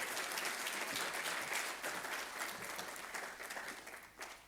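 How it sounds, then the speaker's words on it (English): Conference audience applauding to welcome an African Union commissioner onto the stage at an energy investment event, dense steady clapping from a hall crowd, fairly distant and faint, tapering slightly toward the end. "Give it a round of applause"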